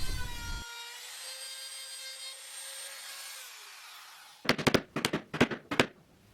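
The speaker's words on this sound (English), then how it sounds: "Then using this small router, I'll take most of the waste away." A small router cuts waste from Rimu wood: the motor whines steadily, then several loud, rough cutting bursts follow close together.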